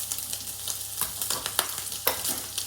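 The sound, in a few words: rice and pork mince sizzling in a pan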